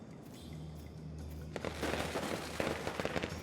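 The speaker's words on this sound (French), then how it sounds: "Oh, des pétards!" Firecrackers go off in the video game Nine Sols. A rapid cluster of crackling pops breaks out over a steady low musical drone and keeps going to the end.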